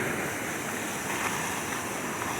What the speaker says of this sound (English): you can see how the water is boiling underneath them